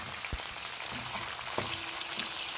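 Tofu frying in a pan of oil gives a steady, loud sizzle with a few sharp pops and crackles. No one talks over it.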